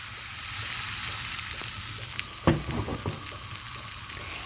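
Palappam batter poured into a hot cheenachatti pan sizzles with a steady, close frying hiss, and a sharper crackle bursts in about halfway through.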